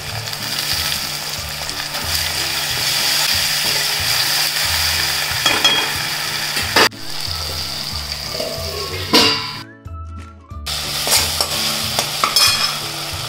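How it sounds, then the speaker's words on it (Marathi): Browned onion with turmeric, salt and tomato sautés in a pan for a corn bhaaji, a loud continuous sizzle with repeated stirring and spoon scrapes, briefly dropping to near quiet before the frying resumes. "आता हळद आणि मीठ टाकते, थोडं परतून घेते। आणि टोमॅटो टाकते।"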